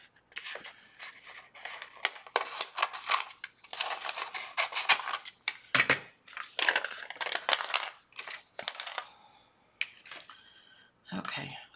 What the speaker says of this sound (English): I'm going to cut these apart.